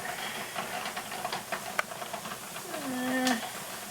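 A pressure canner holding beef broth in a turkey fryer gives off a steady, moderate hiss of steam. A brief sliding tone rises near the end.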